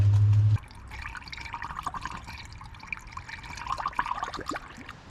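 Liquid is poured down a detached hose into the engine of a 2011 Mazda CX7, a soft continuous trickling and gurgling close by after a brief low hum, with no talking over it.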